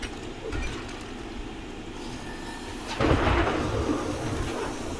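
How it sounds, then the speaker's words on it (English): A deep rolling rumble of thunder heralding Horde Night in a survival video game, a low continuous roar that swells sharply partway through and stays heavy, with no talking. "there is the thunder for Horde Night"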